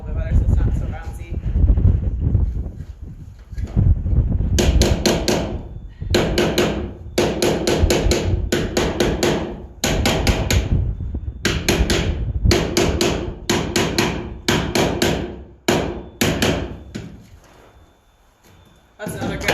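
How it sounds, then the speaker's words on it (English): Nails hammered into a wooden picket frame resting on the floor, sharp close blows in rapid runs separated by short pauses, with a person talking at the start. "I'm gonna actually take mine to the floor and just hammer some of these nails in a little bit better"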